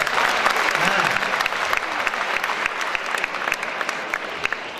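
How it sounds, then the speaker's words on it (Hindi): Audience at a Hindi comic poetry gathering breaks into loud, sustained applause, a thick steady clatter of many hands that stays strong before thinning slightly toward the end, with a voice briefly audible beneath it. "जरा तालियां देके तू बताइएगा"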